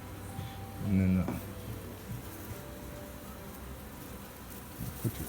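Honey bees buzzing during a bee removal, a steady low drone that runs the whole time. A faint voice talks over it, with a few small bumps and handling noises.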